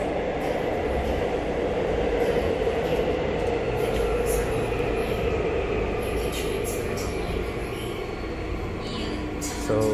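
Steady rumble of a Korean subway train in motion, heard from inside the car: continuous low roar and wheel noise throughout, with faint higher squeals and clatter over the top.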